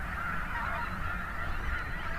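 A large flock of Franklin's gulls calls at once near the Bow River, a dense, continuous wash of overlapping cries with steady loudness and no talk.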